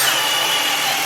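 A Milwaukee M18 cordless drill drills a hole, giving a steady, loud, close-up high-pitched whine that holds constant throughout with no talking.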